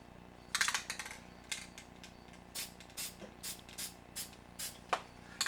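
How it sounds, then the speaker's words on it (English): A spray bottle mists water onto paper with a rapid series of short, crisp hissing spritzes, close by, in uneven bursts with brief pauses between them. "I'm spraying off right here, off the straight edge, and let the mist fall onto the page."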